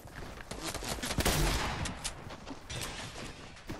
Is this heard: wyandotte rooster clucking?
no